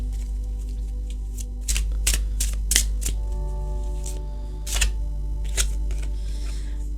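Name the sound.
shuffling tarot cards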